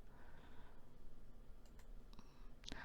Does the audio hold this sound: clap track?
no